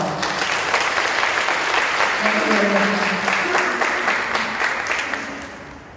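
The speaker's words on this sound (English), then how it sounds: "Please give us a round of applause" Steady applause from an audience at an Asian business case competition, honoring a contributing advisor; dense clapping fills the room, with a voice speaking briefly over it before the applause tapers at the end.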